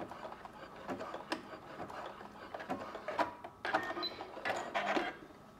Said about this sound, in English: I'm just going to use a zigzag stitch to go over it a couple of times